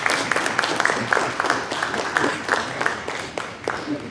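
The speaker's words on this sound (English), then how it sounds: "Everybody, give a round of applause." A small group claps in a brief burst of applause, scattered and moderately close, with faint crowd murmur beneath, at an entrepreneurs' gathering.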